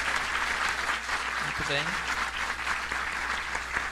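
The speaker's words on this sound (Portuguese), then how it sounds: "uma salva de palmas, né?" An audience at a conflict-mediation panel claps steadily, a dense, even wash of applause lasting several seconds while a voice speaks briefly over it.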